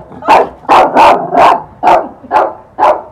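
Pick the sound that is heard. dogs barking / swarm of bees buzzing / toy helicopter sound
dogs barking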